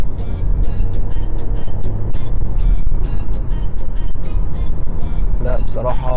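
2020 BMW 118i three-cylinder accelerating hard in sport mode, its engine droning loudly and steadily from inside the cabin under a voice speaking.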